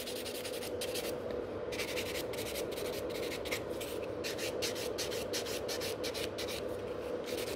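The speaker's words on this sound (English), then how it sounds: "So I'm still filing quite quick, and I'm not going too close to the cuticle area." A white nail buffer files across fingernails in quick, repeated rubbing strokes, a steady scratchy rasp pulsing close up over a constant low background hum.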